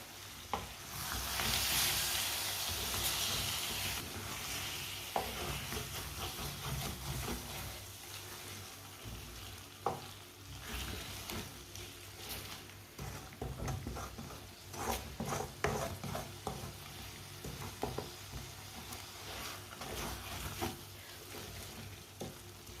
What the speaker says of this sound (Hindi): 1 मिनट के लिए तेज आंच पर भून लेंगे